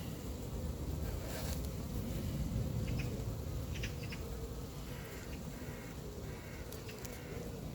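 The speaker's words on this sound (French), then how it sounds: "il y a des abeilles partout" A swarm of honeybees hums in a steady, continuous drone around a cardboard box being settled into a hive, faint and even throughout, with no talk.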